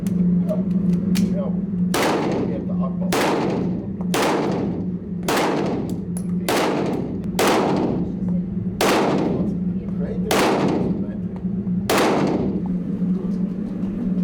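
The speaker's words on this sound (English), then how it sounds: "These are my first couple of shots." Pistol shots fire at an indoor shooting range during a HYROX event in Riga, about ten sharp loud reports spaced roughly one to one and a half seconds apart over a constant background hum.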